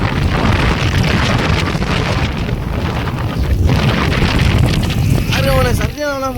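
Strong, gusting wind roars at sea during heavy rain on a boat trip to gather conch shells, a loud, unbroken rush that dips briefly near the end as voices speak.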